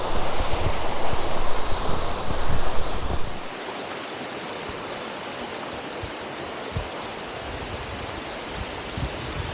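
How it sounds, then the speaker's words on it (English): Hareshaw Linn waterfall gives a constant, dense rush of falling water close by, loud and unbroken throughout, with no voices. "we've got Hareshaw Linn Waterfall behind us"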